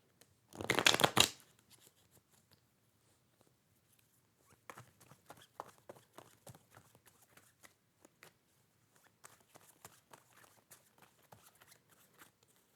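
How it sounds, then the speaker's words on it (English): A tarot deck is shuffled in a quick riffle burst near the start, followed by soft intermittent handling clicks and taps of cards. "One more shuffle."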